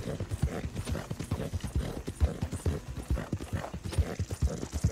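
Horse hooves clip-clop steadily on the ground in the Red Dead Online game, a continuous, even rhythm of hoofbeats close by with no talking.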